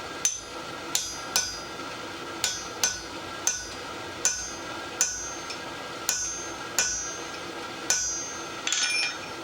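Hammer blows punching a hole in a forged split double hook: about a dozen sharp metallic strikes at a steady, unhurried pace, each ringing briefly, with a faster cluster of light taps at the end.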